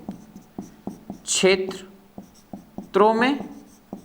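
Chalk or pen tapping and scratching out writing during a Hindi geography lesson, a run of short regular ticks, close, with someone briefly speaking over them.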